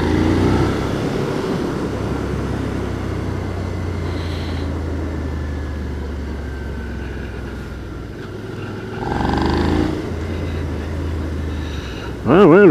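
Suzuki SV650 V-twin motorcycle idling with a quiet stock exhaust, a steady low engine drone throughout with brief louder swells near the end, close and continuous.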